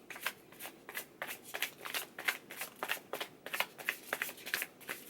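Tarot cards being shuffled by hand, a rapid run of crisp riffling flutters, close and fairly quiet, with no talking.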